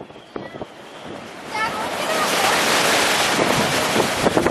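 Big storm waves crash against the Moray coast, a broad roar of surf swelling to a loud sustained wash with wind buffeting the microphone and voices underneath.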